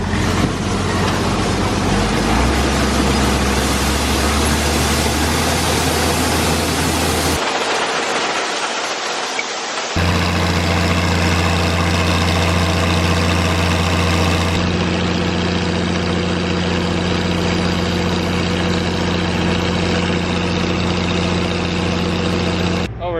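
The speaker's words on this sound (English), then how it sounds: "Red tractor won't start again." A red farm tractor's engine turns over and settles into a loud, steady idle close by, its low rumble continuous with a brief dip before running on.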